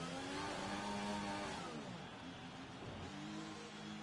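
An F1 2020 video game race car slows into the pits at Hungary, its engine note sweeping downward through gear changes from a high whine to a lower growl, loud and with no talking.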